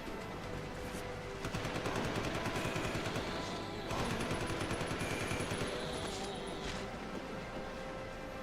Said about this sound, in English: Billy SMG time